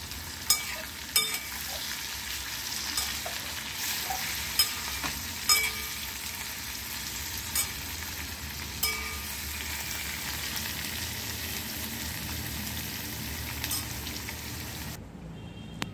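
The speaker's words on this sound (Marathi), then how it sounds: "2 मिनिटांनंतर पुन्हा परतून घेऊ।" Bitter gourd bhaji sautéing in a pan, a close, steady sizzle and crackle with light periodic ticks and pops throughout, no voices.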